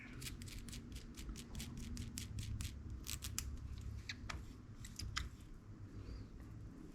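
A refilled shock absorber on a Redcat Gen 9 RC car being worked by hand, giving a close run of quick, rhythmic clicking and squishing strokes over a low rumbling background, with no talking.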